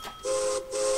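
Two short steam-style train whistle toots from Ticket to Ride, the second following a brief gap, loud, bright and alone with no talking.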